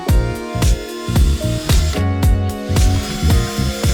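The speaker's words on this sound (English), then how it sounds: "drill a hole through the center" A power drill bores a hole through the sheet-metal roof of a Ford Transit Connect van for a Maxxair roof fan, giving repeated short loud bursts of whining, grinding drilling with brief pauses between them.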